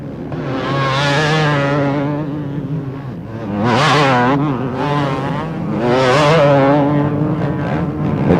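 Several 250cc motocross motorcycles race at a Brazilian championship round, engines revving loudly and surging in repeated rising waves as bikes pass close by, with faint echo.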